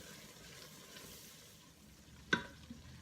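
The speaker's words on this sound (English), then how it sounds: "I'm now going to add 1/3 of a cup of white flour. And start stirring that in." Flour is stirred into onions and garlic sautéing in a Ninja Foodi for scalloped potatoes, a faint low sizzle with soft stirring, then one sharp scrape or clack near the end.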